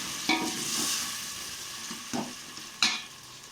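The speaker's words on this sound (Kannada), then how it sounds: "ಮೊದಲಿಗೆ ಈರುಳ್ಳಿ, ಟೊಮೊಟೊ ಇವೆಲ್ಲವನ್ನು ಎಣ್ಣೆಯಲ್ಲಿ ನಾವು ಫ್ರೈ ಮಾಡ್ಕೊಳ್ತಾ ಇದ್ದೀವಿ" Onion and tomato frying in oil for mutton sambar, a steady close sizzle with three distinct scraping strokes of a spatula against the pan.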